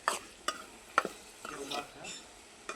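Tomatoes for sev tameta curry sizzle faintly in a pan while a spoon stirs, giving soft clinks and scrapes about every half second, close but quiet.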